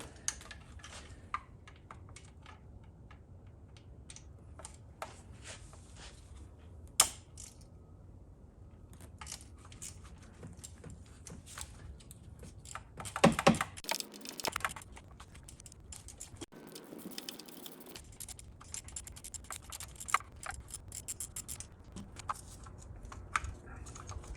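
Working a 7mm bolt off the intake manifold of a fourth-generation Pontiac Trans Am F-Body with an LT1 engine gives a long run of small metallic ticks, clicks and clinks, close and fairly quiet, with a few louder knocks midway.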